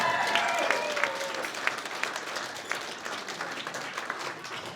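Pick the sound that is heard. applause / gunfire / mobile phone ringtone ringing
applause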